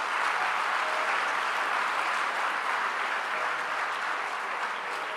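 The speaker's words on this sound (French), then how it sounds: "Je veux qu'on acclame Job." An audience in a church service applauds and cheers for Job, a dense, loud, continuous wash of clapping that lasts throughout.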